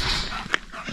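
A wolfdog at an animal refuge whimpers briefly, a short close whine over soft background noise.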